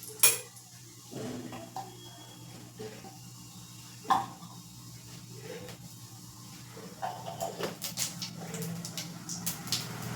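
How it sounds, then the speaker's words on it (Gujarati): Cumin seeds stirred in a hot pan for dal fry, with a few clinks of a metal spoon against the pan over a low steady hiss, followed by busier scraping and tapping toward the end. "જીરું એડ કરી અને આપણે આ રીતે હલાવી લેશું"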